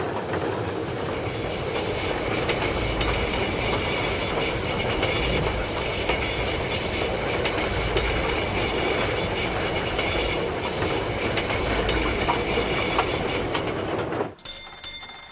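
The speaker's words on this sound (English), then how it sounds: "Excursion trains to the Carterton Show were always popular." A train on New Zealand's Rimutaka Incline rumbles steadily along the rails with a continuous roar and rhythmic clatter, loud and close, then cuts off abruptly near the end.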